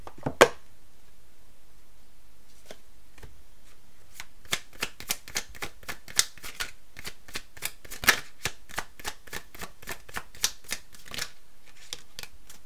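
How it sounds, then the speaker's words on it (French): Oracle cards being shuffled and drawn: a single snap at the start, a quiet pause, then a long run of crisp rapid card riffles and flicks, close and clear, with no talking. "On va prendre une carte en plus pour vous avec les météores d'Anka."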